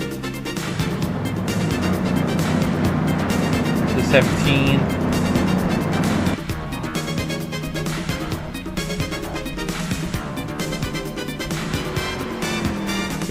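Race cars at Daytona International Speedway roar past on track, a dense continuous engine drone with shifting pitch and a pass around the middle, heard beneath a commentator's steady talk.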